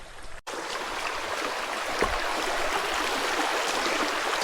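River water rushing steadily along a wooded trail during solo bushcraft camping, a dense broadband wash that stays close and constant after a brief cut at the start.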